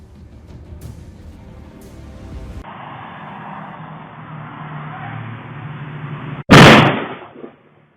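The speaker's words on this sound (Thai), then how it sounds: "แล้วหลังจากนั้นก็มีเสียงปืนดังขึ้นมา" A single sharp, loud gunshot cuts through steady vehicle noise from a passing pickup truck near the end, followed by a brief fading tail.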